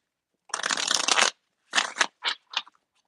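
Tarot oracle cards being shuffled close up, one long riffle followed by three short quick bursts, alone in a quiet room.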